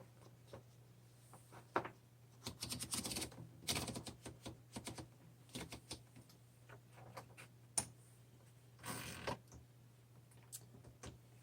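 Keys strike steadily on a 1938 Corona 1C portable typewriter, a close, crisp run of mechanical clacks in uneven bursts with brief pauses, over a constant low hum and no speech.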